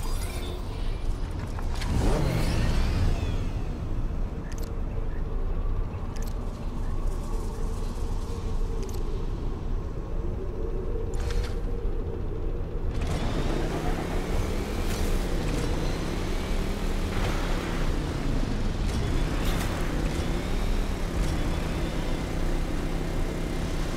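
Motorcycle ridden in the video game Earth Revival, a steady engine drone with rising and falling revs throughout, loud and continuous with no talk.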